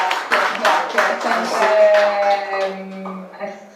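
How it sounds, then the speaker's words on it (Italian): Scattered applause from a small audience, brief and fading, while a voice carries on over it. "direi un applauso anche a voi"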